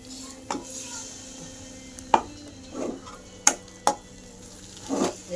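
A pan of garlic, fenugreek and peanut vegetable bhaji cooking on the stove, heard as scattered sharp clanks and scrapes of a spatula stirring against the metal over a low background hum.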